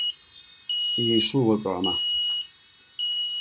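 A minisumo robot gives a steady, high electronic beep during programming. The tone runs through most of the clip, and a person speaks briefly over it in the middle.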